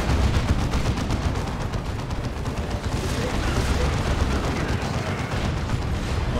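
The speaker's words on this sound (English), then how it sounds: "You've got to move your Plague Marines between shots manually." Plague Marines fire their weapons in a Dawn of War 2 battle: dense, loud, continuous gunfire and blasts pound without a break across the whole stretch.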